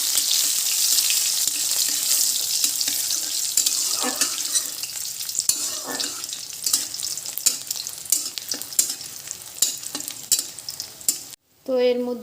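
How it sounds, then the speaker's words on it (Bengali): Dried fish frying in hot mustard oil in a wok, a steady loud sizzle with stirring scrapes running throughout, cut off briefly near the end before resuming. "শুটকিটা ভাজা ভাজা করে নেব।"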